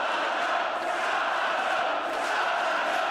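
Wrestling crowd at a live women's wrestling show, a steady dense roar of cheering and chanting voices filling the arena without a break.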